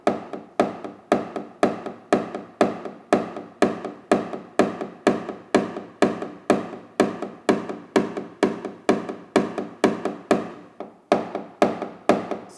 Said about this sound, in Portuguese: Pode tanto bater com o martelo, como eu estou fazendo